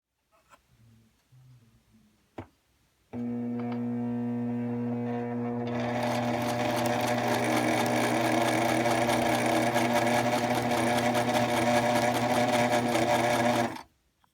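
A sewing machine runs steadily through fleece blanket edges, a continuous loud mechanical whir with a rapid stitching rhythm that starts abruptly after a few quiet seconds of small handling noises and stops cleanly near the end.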